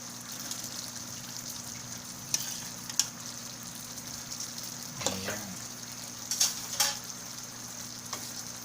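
A pork chop frying in a pan for a creamy mushroom and malunggay sauce gives a quiet, steady sizzle, with a few sharp clinks and scrapes of stirring scattered through.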